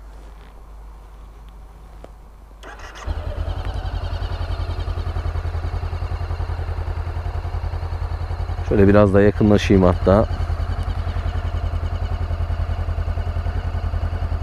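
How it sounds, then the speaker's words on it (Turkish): Honda CBR500R motorcycle engine catches after a brief crank and settles into a steady, close idle, with a short burst of revving partway through; someone speaks briefly over it. "Motosikletin bir de size sesini dinleteyim."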